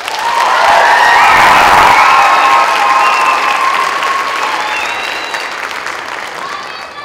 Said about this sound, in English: Please give a round of applause to Mrs. Parker Whitmer.